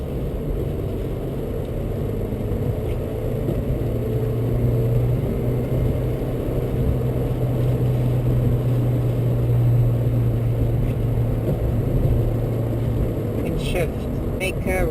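A manual-transmission car accelerating onto a highway, its engine giving a steady, loud cabin drone and road rumble that rises in pitch partway through and then drops after a shift.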